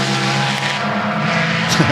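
A historic race car on the Goodwood circuit, fitted with a loud exhaust system on either side, blasts past close by with an ear-shattering, steady engine howl for the whole clip.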